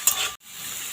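Sour yogurt goes into small potatoes frying in a pan, giving a close, steady hiss of sizzling that drops out briefly, then returns.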